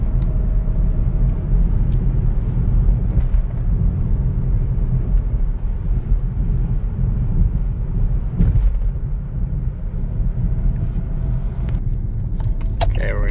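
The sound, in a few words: car driving with high-mileage transmission shifting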